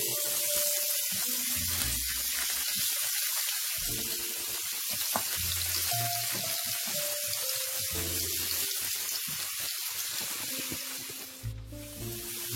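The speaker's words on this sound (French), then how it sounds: "Je vais faire revenir un petit peu mes oignons et l'échalote." Onions and shallot sauté in olive oil with a soft continuous sizzle and faint crackle, joined by a running stream of water and light clinks of cookware nearby, moderately quiet and with no one speaking.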